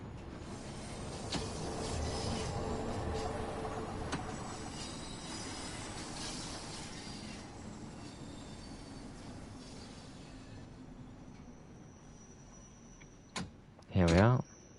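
A London Underground Bakerloo Line train in the Train Sim World 2 game rumbles softly at Oxford Circus, its low rolling noise fading toward the end, followed by a few brief sharp clicks and a short electronic tone.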